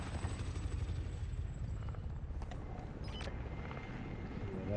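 Supply helicopters in a video game approach as a steady, fairly faint rotor drone under the game's ambient background, with no talk.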